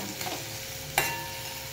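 Chopped onion and tomato sizzle steadily in a hot pan, with a soft stir scrape and a brief clack of a spoon, close and alone.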